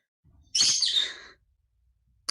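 A pet bird in a room gives a single bright chirping call, close and clear, lasting under a second against near silence.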